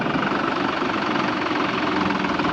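A TT Classic tractor engine runs at a steady idle, giving a continuous low mechanical drone with an even throb and no talk.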